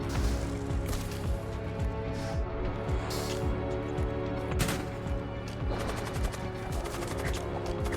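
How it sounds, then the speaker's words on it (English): Gunfire in the space combat video game Void War: rapid, repeated shots and laser-like bursts over a dense, droning synthetic soundscape, continuous throughout with no talking. "Incoming fire."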